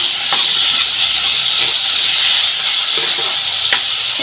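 Potatoes simmering and being stirred in an Assamese fish curry with turoi, a steady close hiss of steam and bubbling with a few soft scraping stir strokes, no talk.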